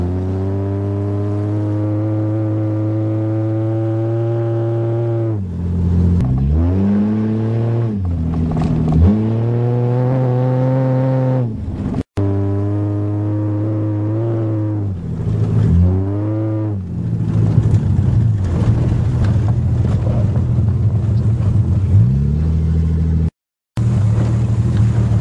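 A 1982 Toyota Cressida drives in the rain, its engine loud and close. It revs up through several gears in repeated rising whines, then eases off between shifts, with a steady wash of road noise underneath.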